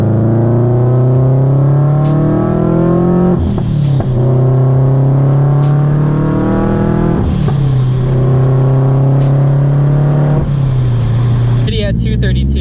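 A boosted Subaru-platform FRS sports car pulls hard through several gears from the cabin, engine note climbing steadily then dropping sharply at each of three or four shifts, loud and continuous.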